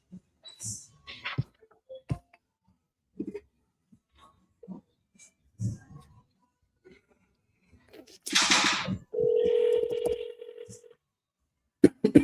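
Telephone dialing tones as a call is placed, scattered clicks and taps leading to a burst of noise and then a steady electronic tone, with brief background sounds.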